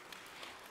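Brief burst of audience clapping for young guests from Grand Canyon University at a church teaching service, a steady even patter of many hands filling the whole moment.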